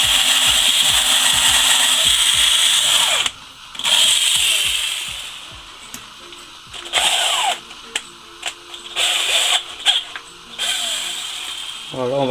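Power drill boring a 2.5 mm pilot hole in material for a homemade mortar battery, running loud in several bursts with short pauses between them, close up.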